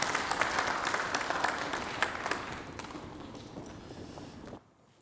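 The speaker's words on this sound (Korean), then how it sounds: "박수하겠습니다." Congregation applauding inside a church after a prayer training session, a dense patter of clapping from many hands that gradually thins and then stops abruptly near the end.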